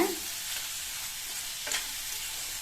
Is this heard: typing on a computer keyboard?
no